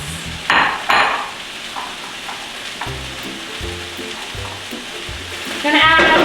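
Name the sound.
beets frying in oil in a skillet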